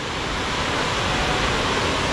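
A waterfall on a hiking trail gives a constant, dense rush of water, loud and unbroken throughout with no voices.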